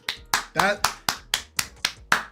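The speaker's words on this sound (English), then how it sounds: "I'm clapping" Nine sharp hand claps in a steady, slightly uneven rhythm, close and loud, each with a quick decay, no talking between them.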